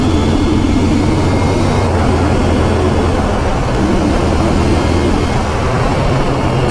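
A KTM 890 Duke GP motorcycle engine rumbles in a steady, loud, deep burble that holds constant throughout, close and unaccompanied by speech.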